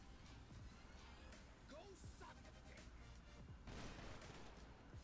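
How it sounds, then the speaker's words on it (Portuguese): Gunfire bursts out in the video game GTA 5 during a police standoff: scattered, fairly faint shots sound in quick clusters against a background of game noise. "os caras estão metendo tiro"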